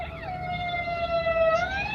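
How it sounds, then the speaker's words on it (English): An ambulance siren passes on a city street, a steady wailing tone that drops then climbs again, moderately loud over a constant low traffic rumble, with no talking. "Oh, more ambulances passing by."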